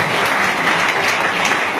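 A large crowd at a direct selling industry event breaks into loud, continuous applause, a thick, even roar of clapping that holds steady throughout.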